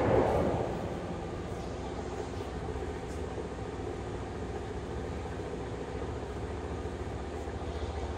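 The spindle of a Tominaga YMZ RH-1225 radial arm drill from Japan runs with a steady, dense mechanical hum and rumble, loudest at the start and then holding an even drone, with no talking.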